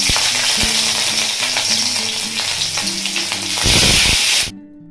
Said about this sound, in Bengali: আর এরপরে ডিম আর মাংসের আলুগুলো একসাথে ভেজে নিচ্ছি।